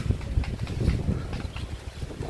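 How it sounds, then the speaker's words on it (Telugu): Strong breeze near the water outside Panjim, Goa buffets the microphone in low, gusty rumbles that rise and fall unevenly, with no speech. "మంచి గాలి వేస్తుంది."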